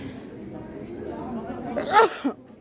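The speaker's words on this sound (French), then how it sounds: "pardon, j'éternue" A single sharp sneeze bursts out near the end, close and loud, following a stretch of quiet chatter in a craft fair setting.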